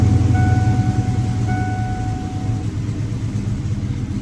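A Ford OBS truck idles inside a shop with a steady low engine rumble and faint whining tones, running continuously and fairly loud with no talking.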